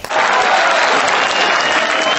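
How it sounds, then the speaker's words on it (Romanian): An audience applauding at an indoor clothing presentation, a loud, dense, steady clapping that starts abruptly and fills the whole moment before cutting off at the end. "Trebuie să aplaudăm."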